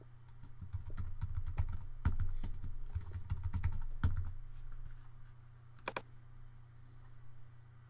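Keys clatter in a steady, close run of clicks on a computer keyboard as a new password is typed, pausing briefly near the end before one last short burst, with a low steady hum underneath and no talking.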